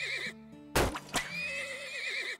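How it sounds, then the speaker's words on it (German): Horse whinnies from horse carts in the oil-drilling video game Turmoil: a rising neigh with a shaky, wavering tail, two short sharp knocks in the middle, then a second drawn-out whinny, set against steady game music, with no voices. "Ich glaube, ich stelle gerade noch mal ein paar weitere Pferdekarren ein."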